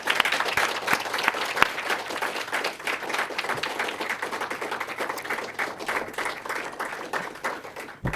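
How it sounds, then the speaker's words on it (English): Sustained applause from a large crowd of summit delegates, dense steady clapping filling the whole stretch with no voices. "please join me, delegates, in giving them a round of applause."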